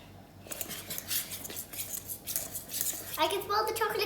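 Chocolate cupcake batter is stirred in a bowl, with irregular soft clinks and scrapes of a utensil against the bowl that come through faint and close, and a voice briefly talking near the end.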